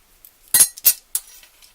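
Half a teaspoon of dry mustard tipped into a bowl of deviled egg filling, heard as a few quick clinks of a metal spoon against the bowl, close and fairly crisp, with no talk.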